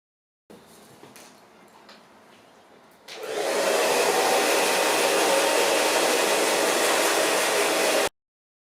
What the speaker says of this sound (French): nous allons commencer à sécher avec le produit